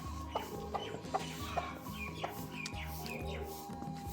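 An Aseel chicken clucks in a steady, repeated rhythm, fairly quiet, with a few higher chirps mixed in against a low background hum.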